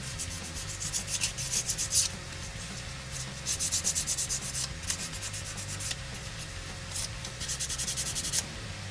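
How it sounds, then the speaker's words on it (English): Sandpaper rubbed against a MiniArt diorama farm wall model during weathering, in short rhythmic scratchy strokes that come in several bursts with brief pauses between them. "So now just with a little sandpaper."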